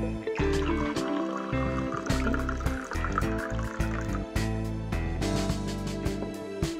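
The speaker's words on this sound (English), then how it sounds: "Now, fill the glass with water." Water poured steadily into a glass for a science experiment, a continuous liquid splashing and gurgling with no gaps and no talking.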